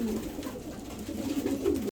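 Pigeons coo softly in a loft, several overlapping low, throaty rolling calls heard close by, steady and murmuring throughout.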